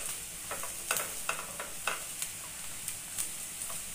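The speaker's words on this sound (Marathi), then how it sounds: "बेसन भाजून झालंय, कांद्यामध्ये मिक्स करून घेऊ।" Roasted gram flour being stirred into frying onions, a soft continuous sizzle broken by repeated light scraping strokes of the spoon, close and fairly quiet.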